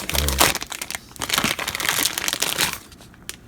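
A long piece of tape on product packaging crinkles and crunches as it is handled, irregular close rustling bursts that fade toward a quieter end.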